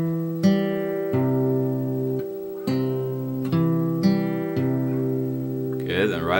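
Fingerpicked acoustic guitar notes are plucked one after another at a steady, unhurried pace, each ringing out and overlapping the next; a brief voice comes in at the end.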